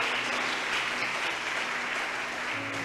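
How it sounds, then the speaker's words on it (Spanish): Steady applause from a church congregation praising the Lord, a dense continuous wash of clapping with a faint sustained hum underneath, no talking. "Hermano, vamos a aplaudirle al Señor."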